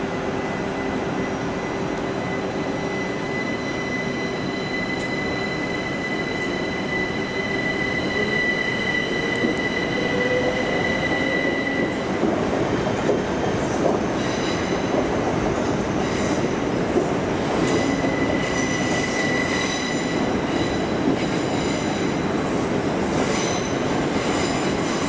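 Train pulling out of a London station platform, a steady rumble of railcars with wheel squeal and high tonal whine, rising in clatter and screech as it moves off, fairly close and loud with no talk.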